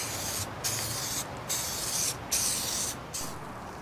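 Aerosol spray paint hisses in four steady bursts of about half a second each, close and fairly loud, as light coats go onto vinyl interior pieces of a 1967 Chevy Impala, with brief gaps between passes.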